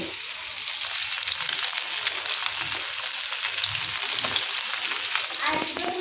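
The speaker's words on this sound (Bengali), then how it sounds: "আমি মাছ রান্না করতেছি, ডিস্টার্ব করো না" Kaki fish frying in a pan, a steady close sizzle with bubbling crackles and occasional stirring scrapes, alone and constant throughout.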